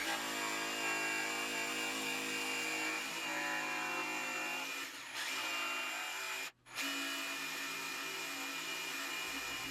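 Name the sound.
jigsaw cutting out center of wooden piece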